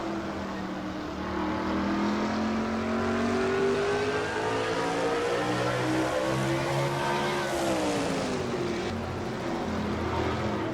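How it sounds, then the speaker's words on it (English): Stock cars race at Martinsville in a racing video game, a loud sustained engine drone rising and falling in pitch as the car works through the turns, with other engines blending in close by. "As we jump back inside Jessica Shelton's car, she runs in 8th place right now"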